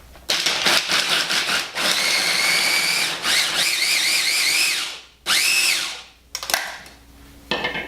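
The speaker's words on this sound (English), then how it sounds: "And we are going to blend this up." A blender whirs loudly as it blends almond meal with coconut nectar, running in several strong bursts with shifting pitch as the motor strains, separated by brief pauses.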